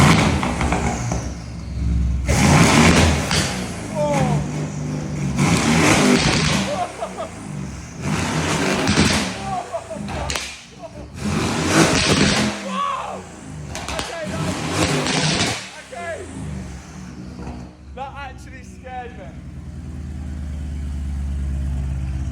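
A loud, raspy Aston Martin Vantage engine with a straight pipe exhaust revs repeatedly in long bursts, roaring up and dropping back, with people talking over it nearby.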